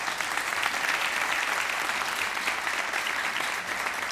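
Steady applause from a seated audience at a London talent competition semifinal, a continuous dense wash of many hands clapping evenly throughout, fairly distant and without voices.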